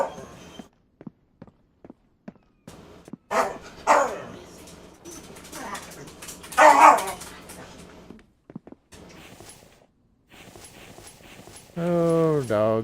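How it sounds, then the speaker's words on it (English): Dogs bark and whimper in the survival game The Infected, in scattered short bursts mixed with clip-clopping hooves and other in-game noises, with a voice talking at points. "Oh, dogs."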